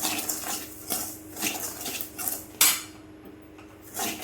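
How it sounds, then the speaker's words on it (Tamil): Semolina (rava) is dry-roasted in a pan and stirred with a metal spoon, heard as repeated scraping and clinking strokes in an irregular rhythm, close and moderately loud, with no sizzle. "ரவை வந்து நல்லா பொன்னிறமாக வர வரைக்கும் நம்ம வறுத்துக்கலாம்"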